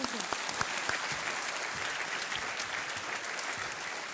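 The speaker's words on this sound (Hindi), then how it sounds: "तालियों के साथ मैं आपका अभिनंदन करता हूँ।" Studio audience applause on a television quiz show, steady dense clapping that holds at an even level throughout, fairly soft and distant.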